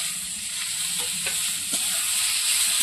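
Fish frying in a pan with turmeric, salt and ground chili paste for a village-style Laufoli fish curry, giving a steady loud sizzle with a few faint scrapes of stirring throughout, no voices.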